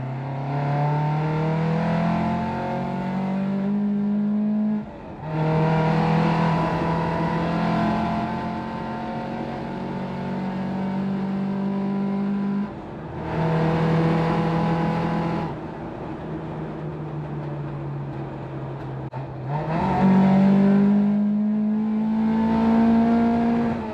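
A car engine revs up repeatedly in long sustained pulls, pitch climbing and dropping between bursts, loud and close throughout with no talking.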